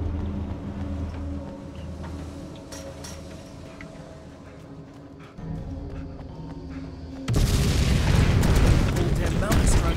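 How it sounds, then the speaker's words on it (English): Flare gun firing in the video game Alan Wake: American Nightmare, a loud sudden burst followed by a sustained roaring hiss that swells over low game rumble and a voice speaking. "No, just go with the flare gun."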